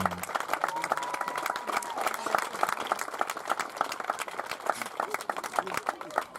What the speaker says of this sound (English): Let's have one more round of applause for our all-tournament team.